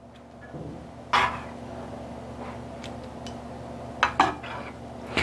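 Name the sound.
utensils and pans while layering meat for lasagna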